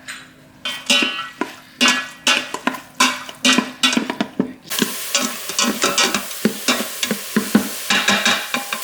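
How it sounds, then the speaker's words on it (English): Avocado oil heating on the sauté setting of an Instant Pot, with repeated rhythmic scraping and tapping of a utensil against the inner pot, then a steady sizzle rising underneath the continued stirring, close and clear. "I'm gonna use the saute setting on my Instant Pot"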